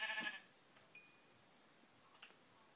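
Sheep bleating in the video game Minecraft: one brief, clear bleat at the start, followed by a few faint chirp-like game sounds over quiet background.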